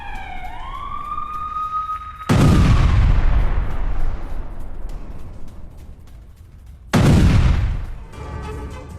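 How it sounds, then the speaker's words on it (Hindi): Israeli airstrike explosions in the Gaza Strip, two massive booming blasts several seconds apart with long rolling decay, preceded by a rising whistle or siren-like tone, loud and distant. "गाजा पट्टी में आईडीएफ का हवाई हमला, हमास के ठिकानों पर गिराए गए बॉम्ब"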